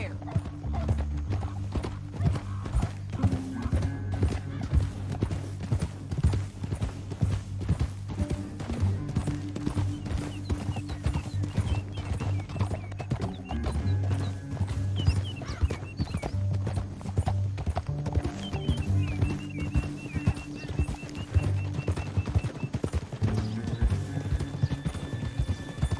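Horses gallop in the video game Red Dead Redemption 2, their hooves beating in a steady, rapid, close clip-clop rhythm that runs throughout, layered over a low musical bed.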